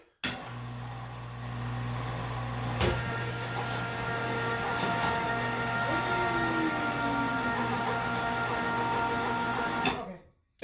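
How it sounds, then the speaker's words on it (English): A power drill bores holes for bolts during a tiny house chair build, running with a steady close whine and hum for about ten seconds with a brief change in pitch partway through. "So let's just drill us some holes here, and we'll bolt this thing on"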